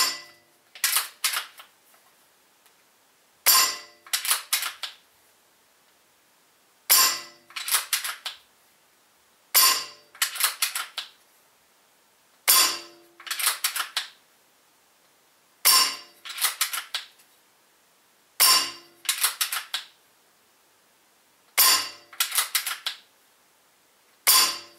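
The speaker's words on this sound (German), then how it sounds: "Also, machen wir unsere 10 Schuss." Ten sharp Mauser K98 PCP air rifle shots ring out one by one at an even pace a few seconds apart, each a crisp crack followed by quick metallic clicks, with silence between.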